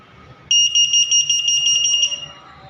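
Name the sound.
desktop needle detector machine buzzer alarm detecting a staple pin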